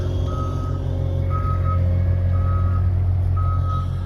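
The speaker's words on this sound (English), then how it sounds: "We got the truck pulled out." A truck backing out on a muddy, slick beekeeping yard on a chilly morning sounds a steady, evenly spaced series of high reversing beeps. A constant low engine idle runs underneath, with no voices.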